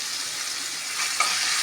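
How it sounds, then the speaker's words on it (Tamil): Crushed ginger and garlic fry in a mix of oil and ghee with a soft, steady sizzle and a light stir partway through, close and moderate in level. "காஞ்சிட்டு நசுக்குன இஞ்சி பூண்டு போட்டு ஃப்ரை பண்ணிவிட்டு பொட்டேட்டோ போடலாம்"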